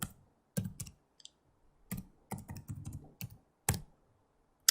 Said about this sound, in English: now I'm going to type in mobile client policy